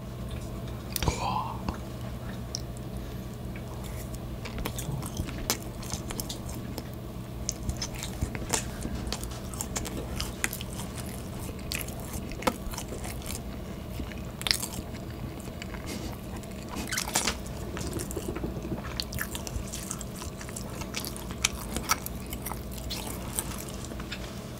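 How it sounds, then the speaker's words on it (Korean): Someone chews and bites into a royal chocolate cake close to the mic, making soft, moist, squishy mouth sounds over a long stretch with faint background hum. "쇼콜라를 먹어보도록 하겠습니다."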